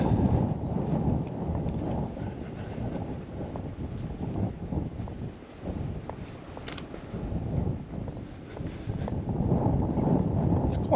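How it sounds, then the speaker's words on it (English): Wind buffets the microphone continuously, a rough, rumbling roar that swells and dips throughout. "I'm hoping it's not going to be too bad, the wind sounds."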